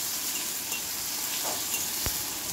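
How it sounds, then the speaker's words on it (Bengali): Onion, garlic and green chilli fry in a pan with a steady close sizzle throughout, alone with no talk and one brief utensil knock near the end. "ভালো করে ভেজে নেব।"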